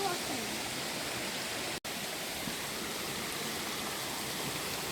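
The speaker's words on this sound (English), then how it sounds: "let's wash them in the water" A rainforest stream runs in a steady broadband rush, a continuous close wash of flowing water that holds even for five seconds, with a brief near-silent dropout midway and faint voices under it.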